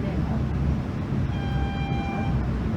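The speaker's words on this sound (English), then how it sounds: "Velocity passing on the left hand side." A V/Line VLocity train passes alongside with a steady, loud rumble and brief tonal whine or horn-like hum, heard from inside another moving train.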